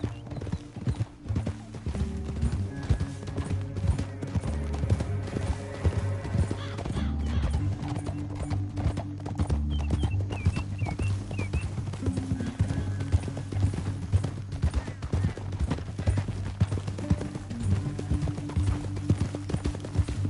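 Horse hooves clip-clop steadily at a gallop in Red Dead Redemption 2, with occasional whinnies over a continuous low rumbling music bed throughout.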